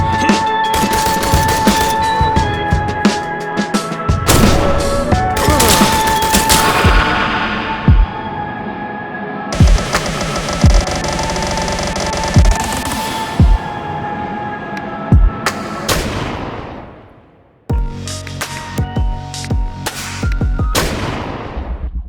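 Assault rifle fire in the video game I Am Your Beast: repeated sharp gunshots and bursts crack over dense, loud game music and effects, ending in an abrupt drop to near silence before the noise resumes.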